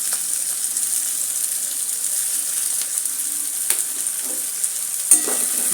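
Chopped onion sautéing with cumin in a pan for capsicum rice, a steady high sizzle with occasional small clicks and stirring scrapes, no talking.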